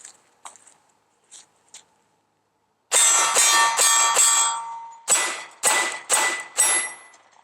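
Rapid 9mm shots from a CZ 75 SP-01 full-size pistol strike steel targets, sharp metallic clangs ringing out in a string of five quick hits, a short pause, then four more, loud and alone.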